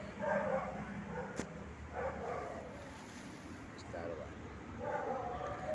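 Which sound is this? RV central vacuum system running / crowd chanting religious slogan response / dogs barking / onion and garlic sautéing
dogs barking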